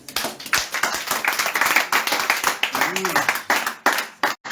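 A village evangelization congregation claps rhythmically in steady, brisk beats, with voices speaking and calling out over the clapping throughout.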